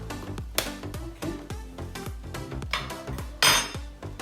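A spoon scrapes and clinks around a bowl, stirring baking soda into yogurt, with repeated knocks against the bowl's sides in an uneven rhythm and one brighter, louder scrape near the end.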